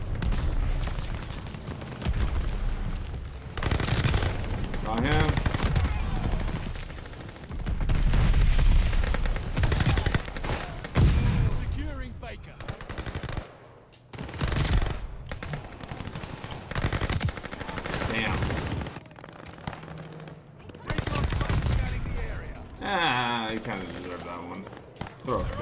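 Automatic gunfire in the shooter game Call of Duty Vanguard on the Shipment map crackles in dense bursts, loud and close, alternating with quieter gaps while someone talks over much of it.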